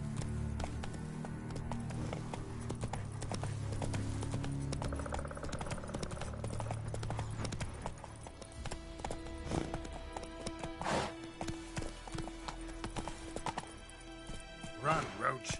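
Horse hooves in The Witcher 3 video game, starting under game music and ambience then becoming a clearer run of hoofbeats toward the end, with a short spoken call.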